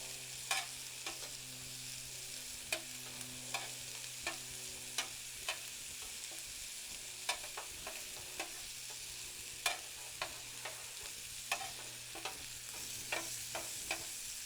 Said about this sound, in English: You want that high heat though to sear those steaks on the raw side and just get them crusted up really nice